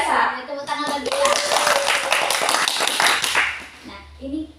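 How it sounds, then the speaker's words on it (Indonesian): A small group of children in a school group counseling session clap their hands together, quick rhythmic claps close by with chanting voices mixed in, fading toward the end. "tepuk tangan lagi ya"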